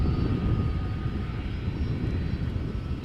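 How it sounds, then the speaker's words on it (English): A Delta A330 airliner taxis at Amsterdam Schiphol, producing a steady, loud engine rumble and whine without voices. "Next up is a Delta A330."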